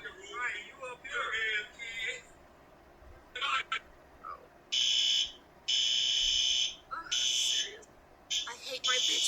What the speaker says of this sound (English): Fire alarms in the morning.